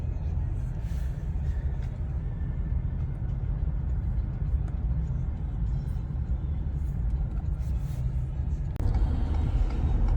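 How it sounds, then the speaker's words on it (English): A Ford pickup truck engine idles with a low, quiet rumble, steady throughout with faint background noise and a slight rise near the end. "That's how quiet these trucks are."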